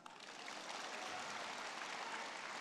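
An audience at a crosstalk comedy show applauds in a steady, dense wash of clapping that continues without a break, heard from a distance and fairly soft, with no talking.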